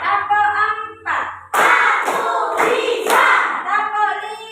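A fifth-grade classroom of children clap their hands in rhythm, several sharp claps mixed into loud group chanting voices.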